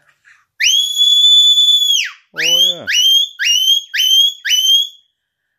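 A shrill whistle blows one long sustained blast, then five short sharp toots in quick succession; a voice speaks briefly between them.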